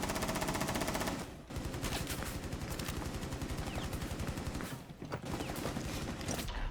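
Rapid automatic gunfire rattles almost without pause in a Rainbow Six Siege match, dense loud bursts with brief gaps, and no voices over it.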